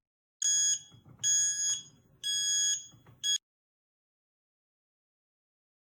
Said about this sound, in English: if there is some error, a beep beep sound will sound.